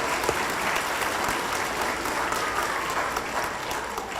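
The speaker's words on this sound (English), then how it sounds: "I want everybody to give each other a round of applause." Family members and guests at a graduation ceremony applaud steadily, a dense, even crowd clapping heard from within the audience, lasting a few seconds without speech.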